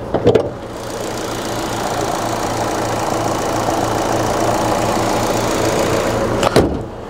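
Ford Focus Titanium petrol engine running steadily under an open bonnet, a close, even hum with a faint rattle and a couple of brief knocks at the start and near the end.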